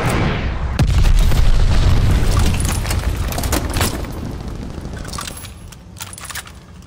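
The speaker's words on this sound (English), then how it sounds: "Enemy glide bomb coming in hot." Glide bombs exploding in Call of Duty: Vanguard: a sudden heavy blast opens into several seconds of rumbling, crackling debris and scattered impacts, which slowly fade into quieter game ambience.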